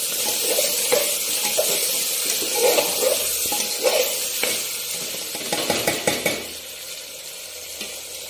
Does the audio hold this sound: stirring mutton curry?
yes